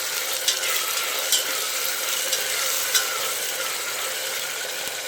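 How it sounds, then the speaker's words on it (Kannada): Tomatoes fry in a pan for a beetroot gravy, giving a constant, even sizzle up close with a few soft stirring knocks at intervals and no talk. "ಟೊಮೊಟೊ ಸ್ವಲ್ಪ ಫ್ರೈ ಆಗಲಿ"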